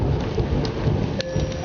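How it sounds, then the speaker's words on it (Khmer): Heavy rain pours steadily outdoors while a low rumble of thunder rolls beneath it, loud and close throughout the short stretch. "ខាងក្រៅធ្លាក់ភ្លៀង"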